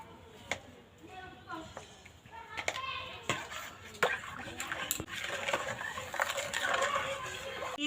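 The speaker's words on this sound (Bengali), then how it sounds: "এইভাবে আস্তে আস্তে নাড়তে থাকবো" A spoon slowly stirs a thickening cornflour and sugar mixture in a pan, making scattered close clinks and scrapes against the metal, mostly under ongoing talk.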